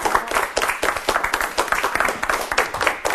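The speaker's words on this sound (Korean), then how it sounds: "큰 박수로 맞아주시기 바랍니다." Applause from an audience welcoming an army academy professor onto a lecture stage, dense steady clapping filling the whole stretch at close range with no talk over it.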